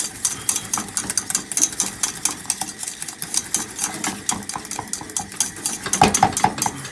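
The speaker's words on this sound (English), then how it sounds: "keep beating it. Make sure there's no lumps in your sauce." A whisk beats steadily against a pan while a milk-based sauce thickens for French croque sandwiches, making a quick, rhythmic scraping clatter up close with a few sharper metallic taps near the end.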